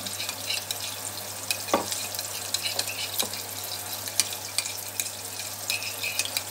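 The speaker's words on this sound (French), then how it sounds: "Et on remue." Tuna in tomato-style sauce is stirred in a pan, a continuous wet bubbling hiss broken by scattered scraping and clicking strokes of the spoon, close and even.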